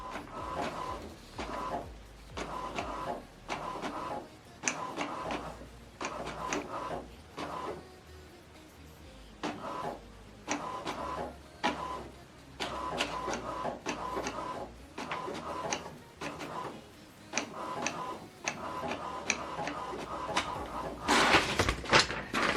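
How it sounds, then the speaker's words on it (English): An HP DeskJet 3700 inkjet printer runs through a print job, giving repeated bursts of whirring and clicking paper-feed and carriage motion in an irregular rhythm, close and moderately loud. "So it's printing odd page, which is 1 and 3."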